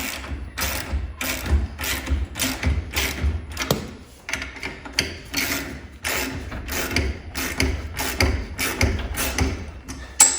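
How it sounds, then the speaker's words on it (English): A hand ratchet tightens the bolts on a garage door cable drum during a cable reset, giving a rapid, steady run of metallic clicks close up, broken by a brief pause before the clicking resumes. "It actually goes to the left on these ratchets. And then just tighten it up."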